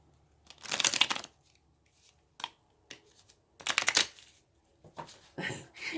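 Tarot cards being shuffled in several quick riffling bursts, with short pauses and softer handling sounds in between, close and fairly loud.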